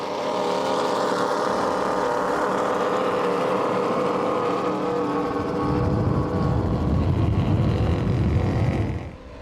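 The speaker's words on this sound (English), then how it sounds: "He rigged it with Mercury Racing 860s. These are incredible motors." A 40-foot Skater powerboat with Mercury Racing 860 engines roars at a Key West poker run, a loud steady engine drone throughout that swells and deepens partway through before cutting off at the end.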